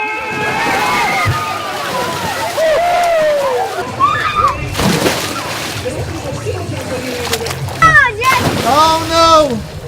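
A crowd plunges into icy city water for a polar bear plunge in February: heavy sloshing and splashing with wind buffeting, loud excited shouts and cheers over the churn.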